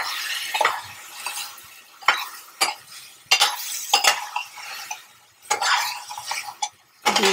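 A spoon stirs and scrapes through raw banana fry in a pan, irregular clinking strokes coming close together with brief pauses and a soft background hiss.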